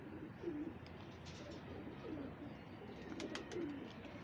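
Golden pigeons coo softly in low, repeated phrases every second or so against a faint, steady background hum, with no talking.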